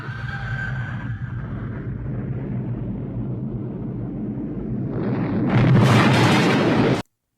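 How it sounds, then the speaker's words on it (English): Dynamite blast from the 1982 film The Thing: a sustained low rumbling roar that swells into a louder, harsher burst near the end before cutting off abruptly. "MacReady manages to blow it up with his seemingly endless supply of dynamite."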